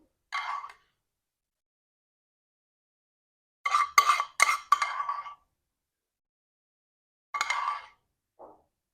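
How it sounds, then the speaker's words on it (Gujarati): A spoon clinks against bowls while tempering is poured over dal for a Sindhi dal pakwan dish: one short clink, then a quick cluster of four or five taps, then two more sparse clinks, crisp and close in an otherwise silent room. "વઘારને આપણે હવે દાળ પર નાખીશું ચમચીથી બધે જ આપણે નાખી દેવાનું છે"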